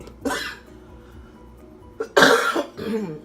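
Two harsh coughs ring out up close, one short and one longer and louder, separated by a quiet pause.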